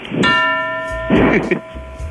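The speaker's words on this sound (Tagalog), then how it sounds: "Para magsipasukan na yung mga empleyado." A bell rings twice to call employees in, each ring sharp, close and loud with a long ringing tail, and the second comes about a second after the first.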